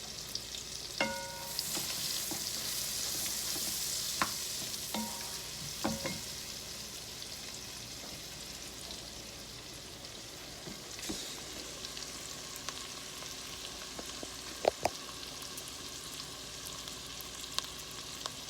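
Vegetables sautéing in a pan for broccoli cheese soup, a steady sizzle with occasional stirring scrapes and clinks, fairly quiet and close, with no voices.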